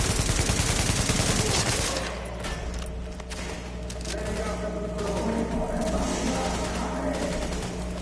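Rapid automatic gunfire from the video game The Division, a loud burst of dense shots at first, then a steadier stretch of game combat with a low hum and scattered impacts.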